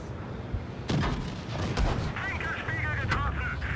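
Tank cannons fire in the World of Tanks Blitz video game, giving a few sharp booms and blasts over a busy battle background, with someone commentating in the same stretch.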